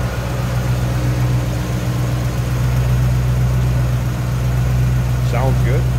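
A 1963 Chevrolet Impala two-door hardtop with a recently installed crate engine, headers and aluminum radiator, idles with a steady low rumble close by.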